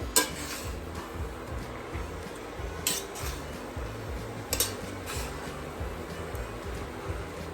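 Grated carrots roasting in ghee in a pan for gajar ka halwa, stirred with a metal spoon: repeated close scraping and light clinks of utensil against pan over a soft frying hiss, no voices.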